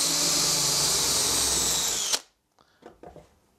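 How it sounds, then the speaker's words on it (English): A power drill bit hidden in a screw bores into a hinge hole, whining loudly and steadily for about two seconds before stopping abruptly, followed by a few faint handling knocks. "This one here has a drill hidden underneath."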